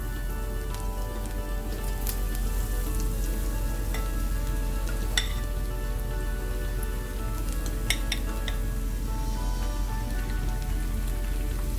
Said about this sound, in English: take them off and just drop them into the oil.